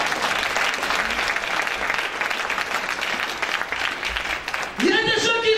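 A church congregation applauding the Lord, with loud, dense, sustained clapping from a crowd that continues steadily before a voice rises over it near the end.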